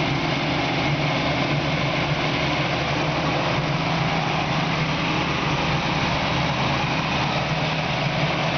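A 1967 Ford Mustang's original 289 V8, rebuilt for high performance and breathing through 2-inch pipes and dual Flowmaster exhausts, idles steadily and close by with a deep, even rumble, no talking over it.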